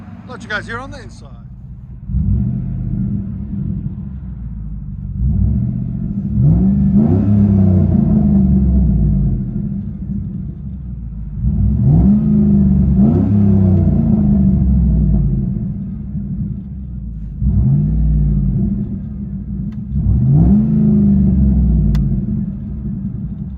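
Deep, loud rumble of a straight-piped 2007 Chevy Suburban exhaust heard from inside the cabin, swelling in repeated surges with rising revs and easing back between them, a short voice bit near the start.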